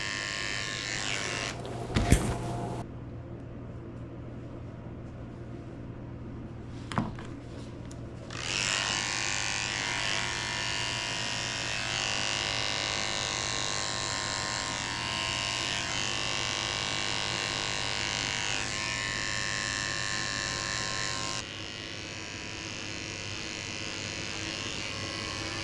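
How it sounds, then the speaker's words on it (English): Electric clippers with a 10 blade shave a Shih tzu's face, a steady close buzzing hum that runs for most of the clip after a few brief knocks and handling sounds. "I'm also shaving her face with a 10 blade."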